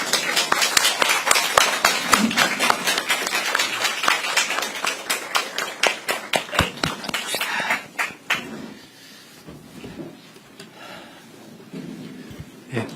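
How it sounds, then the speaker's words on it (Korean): An audience claps loudly as the president enters a meeting with Korean manufacturing firms, dense rapid clapping for about eight seconds that then thins out and fades to scattered claps and quiet room noise. "모두 일어나셔서 큰 박수로 맞이해 주시기 바랍니다."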